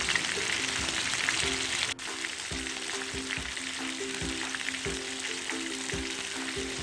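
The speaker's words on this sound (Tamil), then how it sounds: "இப்போ எல்லாத்தையும் மாற்றி போட்டு ஃப்ரை பண்ணி எல்லாத்தையுமே எடுத்துடலாம்" White snapper fish pieces frying in hot oil give a steady, close sizzle with crackling spatter, punctuated by soft rhythmic thumps and one sharp knock as the pieces are turned.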